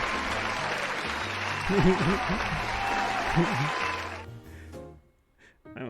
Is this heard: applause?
yes